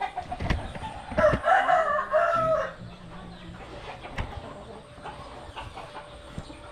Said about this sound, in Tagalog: Meron din dito na mga manok.